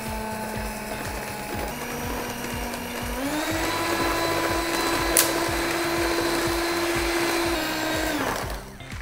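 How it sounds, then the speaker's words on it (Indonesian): An electric hand mixer whips milk cream for doughnut filling, running at a steady low speed with a constant close motor whine and whirr that shifts pitch slightly midway before winding down at the end. "lalu kita campurkan dengan menggunakan bantuan mixer"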